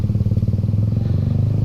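A CFMOTO 250SR Lite motorcycle engine runs close and loud with a steady, throbbing low rumble during gear changes. No separate shift clunk stands out.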